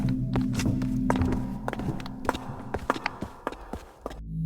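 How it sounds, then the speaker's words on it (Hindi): Footsteps of many people chasing through a village in a horror story: irregular heavy thuds and taps that quicken into a rapid run of sharp steps, fairly close, with no speech. "हजारों कदमों की आवाज आ रही थी,"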